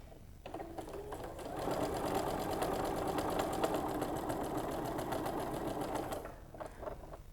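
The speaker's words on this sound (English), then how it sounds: "So I'm going to put one on my sewing machine." Quilt pieces for a Bear's Paw chisel quilt run through a sewing machine in one steady burst of rapid, close stitching lasting several seconds, with quiet handling sounds before and after.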